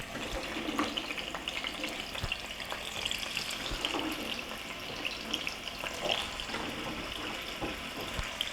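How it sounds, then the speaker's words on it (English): Oil sizzles and crackles steadily in a frying pan for fried potatoes, close up, with scattered pops over a constant bright hiss. "I think I hear my oil sizzling now."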